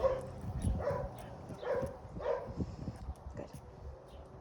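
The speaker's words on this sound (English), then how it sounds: "There's a dog in the house next to us barking." A dog barks from inside the neighbouring house, a handful of muffled, moderately loud barks spaced about a second apart, mixed with background talk.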